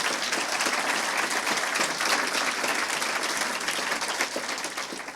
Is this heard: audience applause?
yes